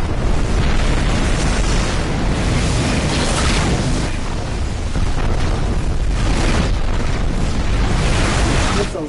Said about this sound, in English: Target locked. Missiles inbound.